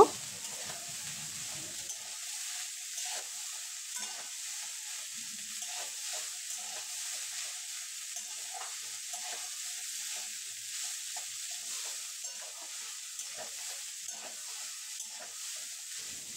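Boiled pasta tossed and stirred in a pan for egg pasta, a faint continuous sizzle with light, repeated scraping of the spoon.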